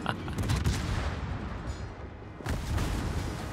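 Secondary guns on a warship fire at an enemy ship in a naval video game, a dense roar of gunfire and booms rumbling continuously, with a heavy fresh volley near the end.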